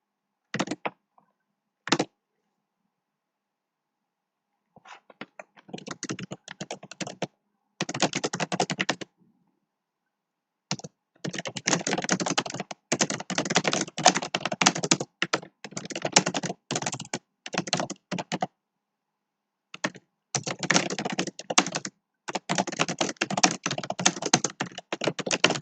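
Fast bursts of typing on a computer keyboard during a competitive programming contest, with dense clattering runs broken by short pauses, close and fairly loud with no talk.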